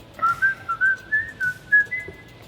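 A person whistles a short tune of about eight clear chirping notes in a steady bouncing rhythm, moderately close over low background noise.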